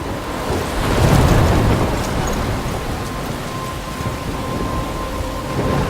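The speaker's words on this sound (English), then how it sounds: "I'm trapped in a storm?" A thunderstorm in the video game Life is Strange: steady, heavy rain with deep rolling thunder, loudest early on, then a continuous dense wash of rainfall with no talking.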